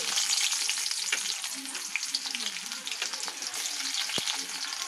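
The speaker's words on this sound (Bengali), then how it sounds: "দেখো ফার্স্টে পেঁয়াজটা দিয়ে দিচ্ছি" Onion pieces sizzle steadily in hot oil with black cumin, a dense, close frying hiss with occasional stirring scrapes and no one talking.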